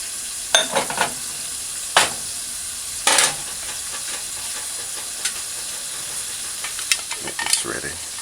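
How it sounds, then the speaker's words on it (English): Chicken feet frying in a pan over a stove set to 6 for a curried dish, a steady sizzle and hiss with sharp crackling spits and stirring scrapes scattered through, close and moderately loud with no talking. "Just gonna allow it to fry for about a minute."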